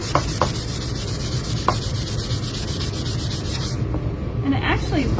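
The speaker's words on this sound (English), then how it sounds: "just a quick little sand." Painted wood surface given a quick sanding by hand, heard as a steady, close scratchy rasp of repeated strokes that continues throughout, with a few faint knocks and no talking.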